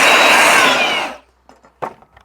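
A loud, close burst of compressed air blows sawdust from a fresh circular saw cut in wood and stops after about a second, followed by a few soft knocks and handling sounds.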